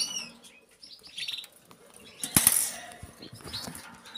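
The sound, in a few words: young birds chirping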